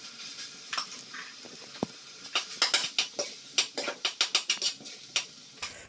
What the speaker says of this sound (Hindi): अब मैं इसमें डाल देती हूँ राइस फटाफट से